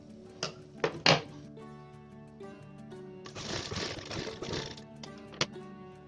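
Sewing machine stitching along a fabric edge while finishing a neck opening, a few sharp mechanical thunks followed by a steady rattling run of stitching at close range, then a final click.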